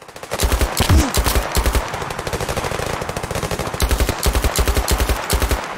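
Rapid automatic gunfire in the VR shooter Zero Caliber, close and loud, with repeated bursts of quick shots separated by short pauses, a couple of longer sustained strings of fire.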